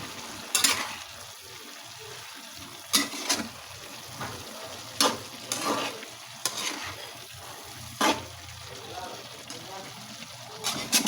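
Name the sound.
stirring adobo with dried papaya in a pan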